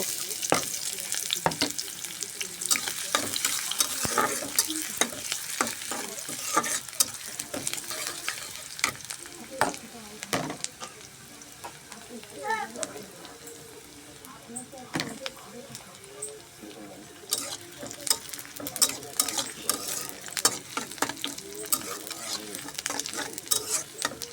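Onions sizzle and crackle in hot oil in a wok, stirred with quick, repeated spatula scrapes and clatters throughout, near and steady, with some talking in the background.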